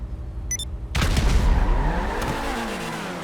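Grotti sports cars in Grand Theft Auto V burst into a loud burnout and launch after a brief quiet moment with a few short beeps, engines roaring and tires squealing close and continuously, with no talk.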